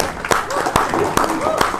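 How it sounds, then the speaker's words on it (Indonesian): An audience claps at a public election-oversight gathering, a few distinct sharp claps in a loose rhythm over ongoing talk and crowd murmur. "Pas tepuk tangan dulu."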